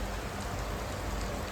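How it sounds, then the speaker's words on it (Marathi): Steady rain falls outside as an even, soft hiss of drops that stays at the same level throughout, with no talk. "आमच्या कसा पाऊस पडते, किती छान असं वातावरण झालंय."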